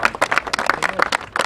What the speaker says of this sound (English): let's give them a round of applause because they're the true heroes to change